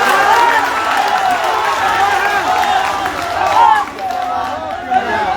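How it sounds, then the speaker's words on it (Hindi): A huge crowd roars and chatters continuously at a political rally in Muzaffarpur, a dense, sustained wash of cheering voices with scattered clapping and swells, loud and close throughout. "लेकिन आज 2 कदम आगे बढ़कर इतनी भारी भीड़ है"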